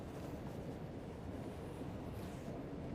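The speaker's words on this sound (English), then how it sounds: "That wasn't the road. That's the train." A train rumbles past near a bike path in Namyang, South Korea, heard as a steady, dense low roar with wheel and rail noise holding constant throughout, moderately distant with no voices.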